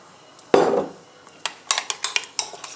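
Tzatziki with olive oil stirred round in a bowl, one heavy clunk followed by a quick series of bright spoon clinks against the bowl, close and crisp.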